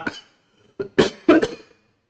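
A few short coughs close by, one brief hack followed by two stronger bursts, with no talking around them.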